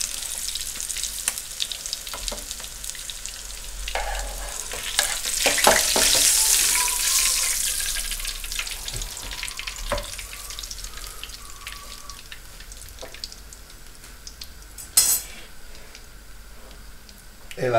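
Lamb shoulder sears in hot oil in a pan, a soft steady sizzle with occasional clicks and scraping, swelling briefly midway while a voice speaks at times.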